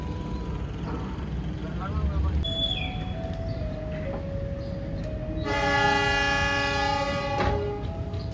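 Progo passenger train departing a station, with a strong multi-tone train horn sounding loudly for about three seconds over the steady rumble of the rolling train, after earlier quieter whistle-like tones.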